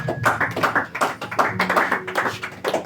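A church congregation claps in praise of the Lord, a steady rhythmic run of hand claps with a faint sustained tone beneath it.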